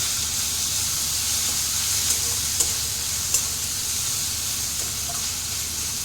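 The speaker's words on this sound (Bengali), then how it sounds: "তো টমেটোটা আমার ভাজা হোক" Chopped tomatoes with turmeric and spices fry in a pan for a tadka, a dense continuous hiss of sizzling oil with a few faint scrapes of stirring, close and steady.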